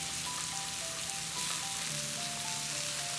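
Cabbage drops into a hot frying pan and sizzles softly, a faint, even hiss of frying that carries on steadily throughout.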